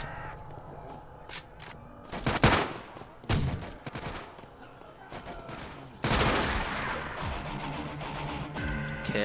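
Shotgun blasts in a zombies video game, several loud bursts scattered among clattering game effects, followed by a dense stretch of continuous action noise.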